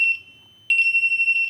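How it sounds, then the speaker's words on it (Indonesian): A BNWAS alarm buzzer, a bridge navigational watch alarm built on an Outseal Mega V1 controller for ship use, sounds as a shrill, steady electronic tone. A short beep and a brief gap lead into a longer pulsing run, close and loud. "buzzer kamar kapten menyala, buzzer mushroom menyala"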